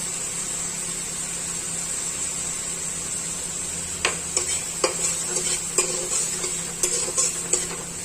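Garlic-ginger paste with chilli and turmeric frying in a pan makes a steady, close sizzle, and from about halfway a spoon starts stirring, adding a run of sharp, irregular scrapes and taps over the hiss.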